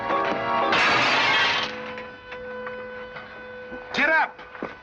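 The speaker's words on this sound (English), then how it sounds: "You busted Lily's looking glass." A mirror shatters with a loud crash of breaking glass in an old 1940 colorized western, followed by fainter tinkling and a voice speaking over a steady background tone.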